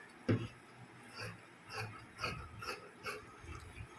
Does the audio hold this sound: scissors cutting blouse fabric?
yes